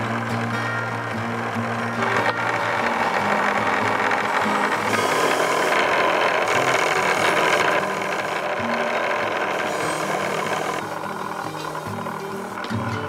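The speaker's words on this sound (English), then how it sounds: "I think my old wire wheel is pretty fitting to clean up this pump." An old wire wheel scours rust from an antique hand pump, a continuous whirring, scraping grind with a steady motor drone, close and unbroken for the whole stretch, rising slightly in the middle.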